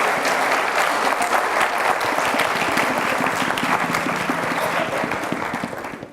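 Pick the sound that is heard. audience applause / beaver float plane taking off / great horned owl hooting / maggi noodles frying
audience applause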